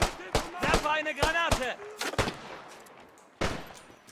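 Gunfire in the World War I shooter game Beyond The Wire: several sharp, loud shots come in an uneven burst early on, with one more shot near the end and a voice speaking in between.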